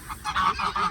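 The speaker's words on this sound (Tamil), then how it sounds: "இதுதான் வாத்து" A white duck honks close by in a quick series of loud, nasal honks that rise and fall in an uneven rhythm, with no voices over them.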